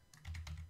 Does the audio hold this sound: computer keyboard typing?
yes